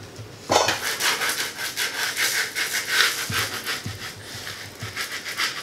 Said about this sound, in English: just give that a really, really good scrape